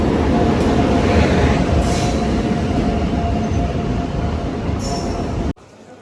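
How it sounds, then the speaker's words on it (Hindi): A train pulling into a rural railway station in India, a loud continuous rumble of rolling wheels and carriages with faint squeals, holding steady for several seconds before cutting off abruptly. "ट्रेन का आवागमन हो चुका है"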